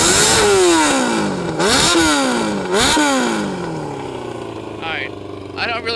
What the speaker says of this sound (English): We're going to rev it a few times.